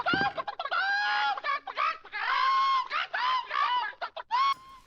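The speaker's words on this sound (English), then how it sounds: "this is how you're able to kill these chickens" Chickens in the Hand Simulator Horror video game cluck and squawk in a busy, continuous run of loud, close calls.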